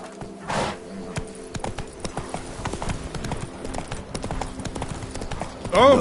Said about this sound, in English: Even the draft horse will come.